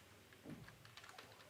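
Quick, light keystrokes on a computer keyboard while writing React code, a brief irregular patter of clicks at moderate distance with no voice.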